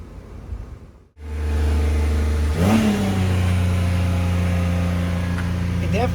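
A car engine with a cooling-system flow problem revs up, then holds at a steady 3,500 rpm, a loud, close, sustained mid-pitched drone that wavers slightly, after a brief quieter stretch at the start.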